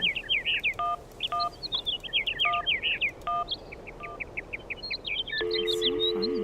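A phone in the adventure game Syberia dials out, a quick run of electronic keypad tones interleaved with chirpy synthetic beeps, followed by a steady ringing tone, all clear and close with no talking.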